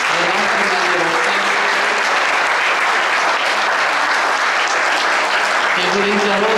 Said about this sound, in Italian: vi chiedo un applauso anche per tutti i volontari delle nostre grandi rosse